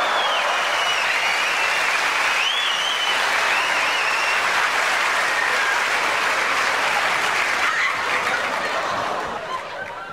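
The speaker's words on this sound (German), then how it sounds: "der Applaus ist gerechtfertigt" A theatre audience applauds a comedy stage show by Otto Waalkes, a steady, dense wash of many hands clapping that holds loud for the whole stretch and tapers slightly at the end, with a few faint laughs mixed in.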